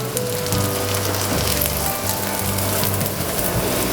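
Breaded chicken cutlets for chicken parm frying on medium-high heat in a pan, a loud, steady, crackling sizzle with dense popping that carries on without pause and with no talking.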